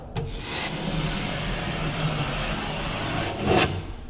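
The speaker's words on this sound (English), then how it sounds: "So first I'll start with my taper, put the pressure of the knife on the left side" A drywall taping knife scraping joint compound off a wall during a third coat, a steady rough scrape lasting several seconds, close and fairly loud, ending with a brief sharper swipe.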